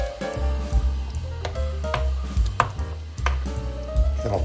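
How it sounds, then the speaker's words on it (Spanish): A knife chops three boiled eggs into small pieces on a cutting board, giving a run of close, crisp knocks at an uneven pace over a low background hum. "vamos a trocearle pues tres huevos"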